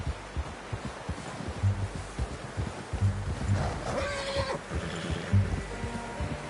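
A horse in the Red Dead Redemption video game gives a short whinny amid low thudding hoof steps and ambient game sounds, no speech.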